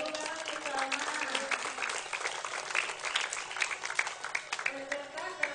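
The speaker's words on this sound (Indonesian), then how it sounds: "tepuk tangan untuk Salman." A crowd of students claps steadily and loudly for a prize winner at an outdoor Monday flag ceremony, a dense, continuous wash of hand claps with voices mixed in.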